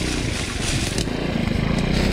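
A scooter engine straining on an enduro ride over rough ground, a loud, continuous buzzing drone close by that rises and falls slightly as the rider struggles to pull free.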